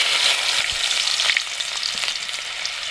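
Onion sizzling as it drops into hot oil in a kadai, a loud, steady frying crackle with faint stirring throughout.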